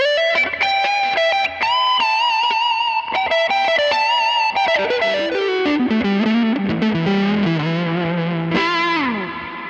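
Electric guitar with distortion played through a Line 6 Helix reverb, sustained bright notes and descending phrases trailing off into a washy reverb tail, loud and close with no voices.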